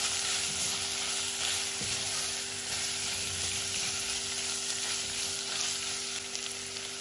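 Tomatoes frying in a pan with added syrup and fresh basil, a dense steady sizzle with soft scraping as the mixture is stirred, loud and close throughout with no voices.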